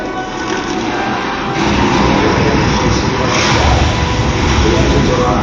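Saturn V rocket engines igniting at the Apollo 8 launch, a loud, dense, continuous roar that swells about a third of the way in and then holds steady and powerful to the end.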